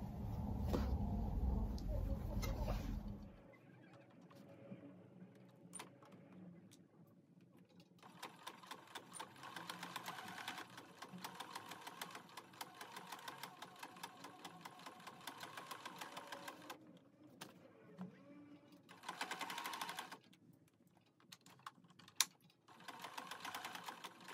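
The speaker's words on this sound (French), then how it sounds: "je vais faire une surpiqûre par ici, tranquillement. Parce que là, il y a quand même beaucoup d'épaisseur." A sewing machine topstitches slowly through many thick layers of fabric, running in a steady, close mechanical whir that pauses now and then. A louder clatter comes at the start, and no one speaks over the stitching.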